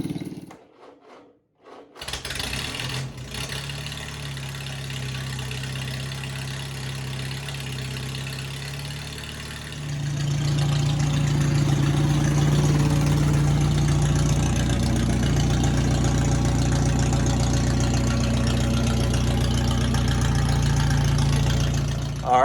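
Flathead engine swapped into a Ford M tractor cranks and fires, then settles into a steady idle, starting with a brief burst of cranking before a loud continuous low rumble takes over and holds to the end.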